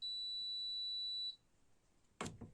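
A Hamilton Beach bread maker's finished signal: a steady high electronic beep holds for over a second, then cuts off, followed by a short click or thud.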